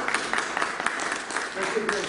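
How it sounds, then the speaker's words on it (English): A brief round of audience clapping at a COVID-19 champions recognition ceremony, with sharp individual claps over a crowd wash and a voice speaking over part of it. "give her Grace an round of applause"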